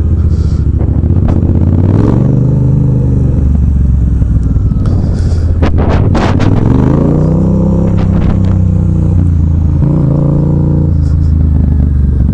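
A loud Yamaha FZ-07 motorcycle engine rumbles steadily and is revved several times, rising and falling in pitch, close by with no talking.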